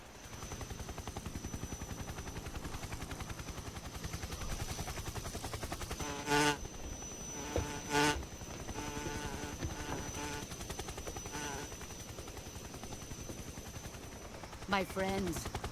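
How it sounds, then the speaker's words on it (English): Insects buzz steadily in Metal Gear Solid 3 on PS2, a constant drone with a few sharp gunshot-like bursts breaking through, while a voice talks over it. "do you think he puts like little silencers on their wings so they don't hear the buzzing so much?"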